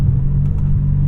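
A 2001 E39 BMW M5 sedan's engine rumbling loud and close with a deep steady drone, a short continuous burst without clear rise or fall.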